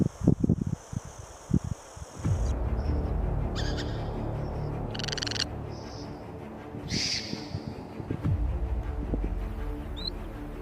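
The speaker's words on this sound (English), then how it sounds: "The burrowing owl does not dig burrows, it steals them." A burrowing owl calls in a few short, high chirps and trills over a steady low rumble, with deeper thuds near the start, moderately close.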